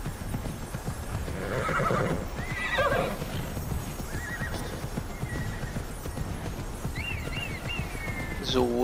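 Horses in the video game Immortals Fenyx Rising clip-clop steadily along with their hooves, and whinnies and neighs rise over the trotting now and then.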